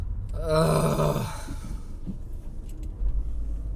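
Cars crawl through slow road traffic at roadworks, heard from inside a vehicle as a constant low engine rumble. A drawn-out groaning voice rises over it early on.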